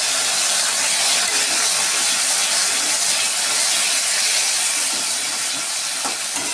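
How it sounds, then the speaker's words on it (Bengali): Taro and potatoes fry in oil with cumin, giving a steady, loud, close sizzle and hiss that runs without a break and with no talking. "এগুলো একটু ভেজে নেব।"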